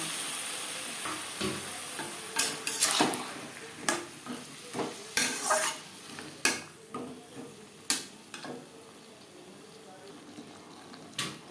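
Potatoes are sautéed with spices in a pan for a Bengali fish curry, with a soft background sizzle broken by repeated sharp scraping and clanking strokes of a spatula at an uneven rhythm.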